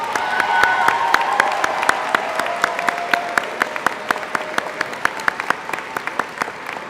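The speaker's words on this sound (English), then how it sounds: "Please join me in applauding our second group of graduates." An audience applauds graduates at a STEM high school graduation ceremony, a full crowd ovation that thins over several seconds into scattered, distinct claps, steady and moderately loud throughout.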